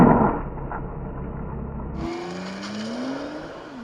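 A Nissan GT-R launches and accelerates hard: a loud, rough engine roar at the start, then after a shift the engine tone climbs steadily in pitch as the car pulls away, with no talking.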